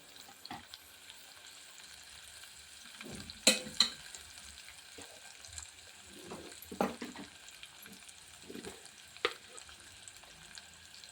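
Coriander added to a hot tempering of oil and spices for a leafy lentil sambar, a low continuous sizzle broken by several scraping stirs and a couple of sharper clinks of a spoon against the pan.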